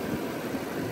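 Steady idle of a 2006 Range Rover being treated for overheating, an even, noisy engine drone held at constant level throughout, no voices.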